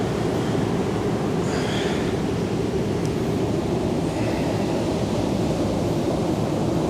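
Ocean surf breaking and washing on a rocky shore, a dense, steady roar of seawater with wind-like hiss, close and unbroken for several seconds, no talk.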